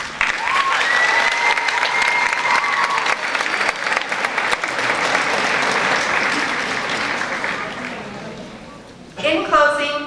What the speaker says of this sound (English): join with me in giving thanks to our amazing support systems, our families, and our teachers with a round of applause